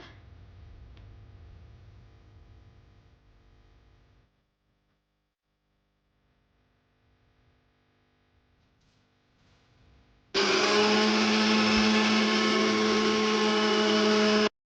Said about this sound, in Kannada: ಅದನ್ನು ಸಣ್ಣ ಸಣ್ಣದಾಗಿ ಪೀಸ್ ಮಾಡಿಕೊಂಡು ರುಬ್ಕೊಳ್ಳೋಕ್ಕೆ ಹಾಕೊಬೇಕು ಒಂದು ಜಾರ್ಗೆ